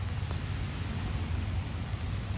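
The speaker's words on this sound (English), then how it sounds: "It's not a cold rain, it's a hot rain." Steady rain falling outdoors during an outdoor calisthenics workout, a continuous dense hiss with low rumbling underneath, moderately loud and unbroken, with no voices.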